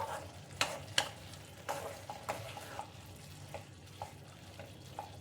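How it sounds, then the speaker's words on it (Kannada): Grated coconut frying in a pan, with a soft, quiet sizzle broken by sharp spoon scrapes and clicks against the pan every second or so while it is stirred. "ಇದು 2 ಸ್ಪೂನ್ ಆಗುವಷ್ಟು ತೆಂಗಿನಕಾಯಿ ಹಾಕ್ಕೊಂಡು ಒಂದು ನಿಮಿಷ ಹಾಗೇ ಚೆನ್ನಾಗಿ ಫ್ರೈ ಮಾಡ್ಕೊಳ್ಳೋಣ"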